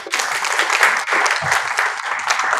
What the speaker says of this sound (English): A round of applause for our Wow, GetBundi.